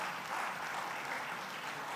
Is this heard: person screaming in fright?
no